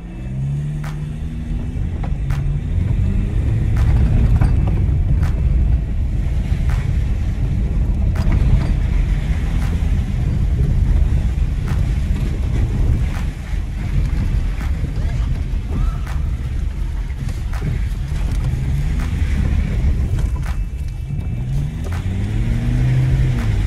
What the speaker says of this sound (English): we're gonna just take this off-road trail or track like I see. We're gonna see how wild this Wildtrak can get